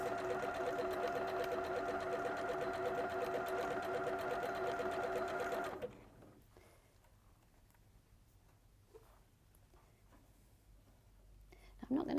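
A sewing machine doing decorative appliqué stitching with metallic rayon thread, running steadily and loudly for about six seconds, then stopping, leaving quiet handling sounds until a brief restart at the end.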